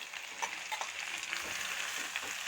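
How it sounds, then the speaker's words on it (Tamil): Onions and curry leaves frying in a pan of oil tempered with mustard seeds, a steady close sizzle with faint scattered pops and stirring, no voices. "இது வெங்காயம் பாதி அளவுக்கு குக் ஆகட்டும்."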